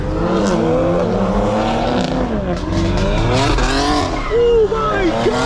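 Several BMW X3M SUVs with loud aftermarket exhaust accelerate hard through traffic, a loud raspy engine roar sweeping up and down through the gears, close and continuous, with rising and falling revs and possible tire noise.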